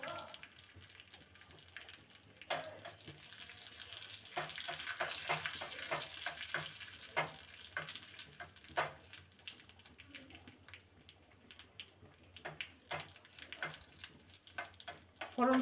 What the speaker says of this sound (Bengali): দুটো শুকনো লঙ্কাকে 2 টুকরো করে দিলাম, আর দিয়ে দেবো একটা তেজপাতাকে 2 টুকরো। ফোড়নটাকে ভালো করে ভেজে নেব।